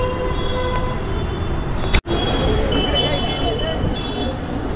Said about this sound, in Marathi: metro station